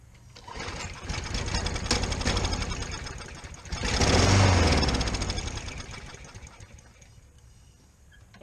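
A John Deere JS40 walk-behind mower engine cranks over after priming, firing in bursts and trying to catch, with a rough, loud run building near the middle before fading back, mechanical clatter throughout.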